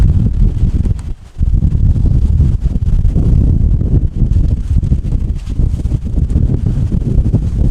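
Strong wind buffets a sailboat crossing the Pacific, a loud, steady roar of gusts with rumbling low-end microphone noise and a brief lull near the start, with no voices.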